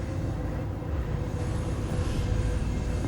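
Train rumbling past in Cyberpunk 2077, a dense low roar of rail wagons that swells slightly toward the end, heard alone without speech.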